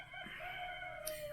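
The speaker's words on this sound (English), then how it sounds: "Sorry about the rooster." A rooster crows faintly in the background, a drawn-out, wavering call over a quiet room.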